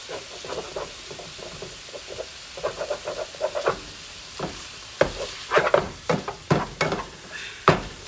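Half a pound of ground beef sizzling in a pan, a steady fry broken by repeated scraping and stirring strokes that grow louder and sharper toward the end, close up with no talk.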